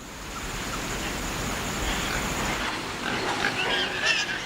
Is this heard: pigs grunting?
yes